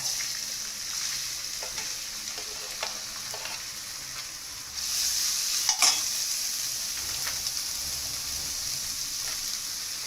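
Onions sautéing in two large spoonfuls of ghee in a pan, a continuous soft sizzle with occasional scraping stirs and one sharper clatter midway, heard alone without talk.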